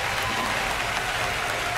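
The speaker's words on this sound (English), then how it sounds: "just give her a vanity clap" Applause from a debate audience, a steady, dense wash of many hands clapping at moderate distance, continuous and unbroken with no speech over it.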